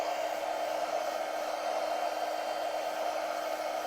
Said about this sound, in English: so we're done with the heat tool